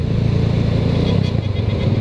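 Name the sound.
Rusi Classic motorcycle engine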